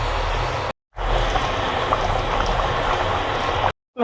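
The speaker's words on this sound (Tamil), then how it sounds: "இப்போ வந்து நல்ல குழம்பு கொதிக்குது" A pot of Madurai-style yam curry bubbling at a steady boil, a continuous close gurgle broken by two brief silences.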